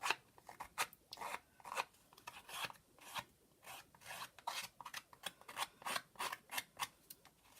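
Paper being cut with a somewhat blunt pair of craft scissors while making a small gift folio box: a close, quiet run of quick rasping snips in an uneven rhythm, with no talking.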